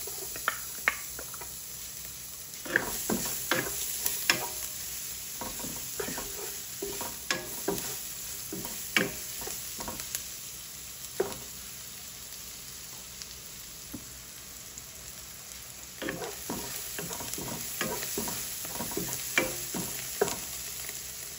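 Garlic frying in a pan for chicken sinampalukan, with light sizzling and scattered stirring clatter and scrapes in uneven bursts, close and fairly quiet, with no talking.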